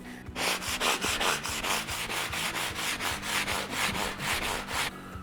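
Sandpaper of about 400 grit is worked back and forth along a rosewood guitar neck in a steady rhythm of about a dozen close, crisp strokes, with no talking.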